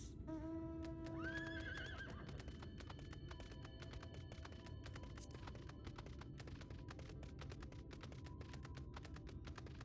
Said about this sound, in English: Alright, let me get on my horse.